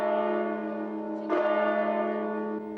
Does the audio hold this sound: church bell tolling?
yes